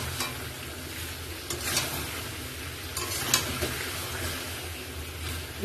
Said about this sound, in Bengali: আলুর দম মশলা, ম্যাগি মশলা দিয়ে এখন কষাবো